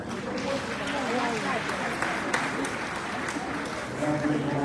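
A large crowd at an ECOWAS summit of West African leaders in Sierra Leone claps steadily, a broad, continuous wash of applause mixed with murmuring voices, filling the hall throughout.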